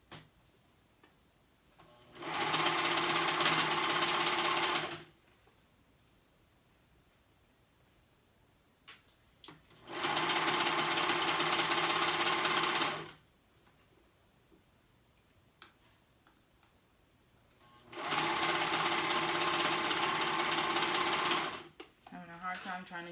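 A sewing machine stitches a pair of joggers in three steady runs of several seconds each, with quiet pauses between them where the fabric is repositioned.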